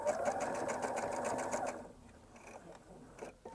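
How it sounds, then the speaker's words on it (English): A sewing machine stitching fabric runs in a fast, even mechanical chatter for under two seconds, then stops, leaving faint handling noises. "I'm going to sew it on the sewing machine"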